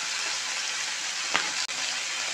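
Broccoli, peas and other vegetables with turmeric fry in a pan for sago khichdi, giving a steady, even sizzle with a brief stir-like scrape partway through.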